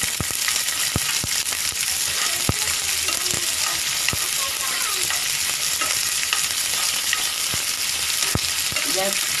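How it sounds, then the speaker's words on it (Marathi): Peanuts and peas roast in a hot pan for a cheesy samosa filling, giving a steady dense sizzle and crackle with sharp scraping clicks of a spoon stirring throughout, close and loud, with no talking. "शेंगदाणे पण आपण भाजून घेणार आहोत."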